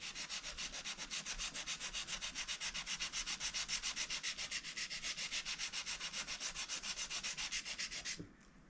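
A scalpel blade is sharpened with quick, even back-and-forth rubbing strokes, faint and close, that repeat rapidly and then stop near the end.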